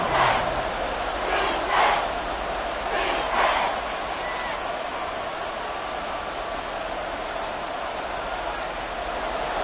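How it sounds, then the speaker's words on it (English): Stadium crowd roaring at Arrowhead in the video game Madden 24, a steady loud wash of cheering that holds throughout, with a few brief swells near the start. "The Arrowhead crowd in full roar."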